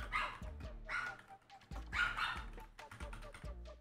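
A dog barks in several bursts at moderate distance, with irregular yips and barks spread across the moment, fairly faint overall.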